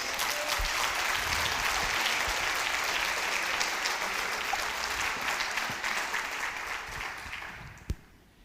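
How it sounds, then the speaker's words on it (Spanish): A church congregation gives a long round of steady applause, loud and dense at first, then tapering off and fading out near the end. "¿Cuántos quieren dar una ofrenda de palmas?"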